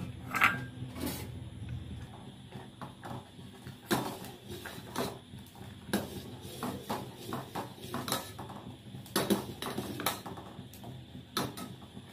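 Custard mixture stirred in a pan for fruit custard, with repeated close scraping and light knocks of a spoon against metal at an uneven pace, fairly quiet, without talking.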